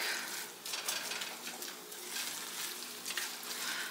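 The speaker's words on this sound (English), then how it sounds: "Give this a good stir." Food sizzles quietly in a pan while being stirred, a soft, steady frying hiss with faint scraping, no talking.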